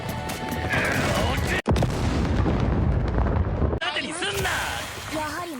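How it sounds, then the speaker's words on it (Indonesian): A bomb detonates to blow apart a golem monster in an anime battle, a loud, sustained blast roar that cuts off abruptly, followed by swelling music with tonal sweeps. "Alice yang sudah mendapatkan kiriman bom akhirnya meledakkan monster golem"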